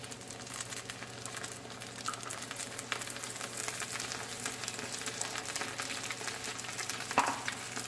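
Sausages and potatoes frying in a pan after milk is poured in, giving a steady dense sizzle and bubbling with faint stirring scrapes. The sound is close and continuous, with a brief louder clink near the end and no talking.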